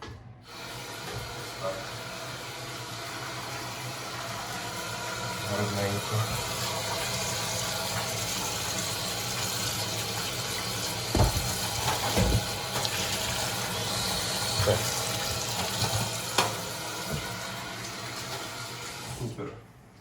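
Cold water runs steadily from a tap onto chanterelle mushrooms in a colander, a continuous splashing rush with a few clinks and a voice speaking briefly over it.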